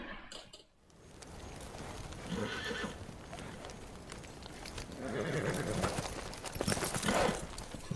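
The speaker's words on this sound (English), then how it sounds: "Something's spooking the horses." Horses whinny and neigh over a bed of shuffling hooves and rustling, with a louder neigh rising near the end; a spooked-horses scene from the TV series House of the Dragon.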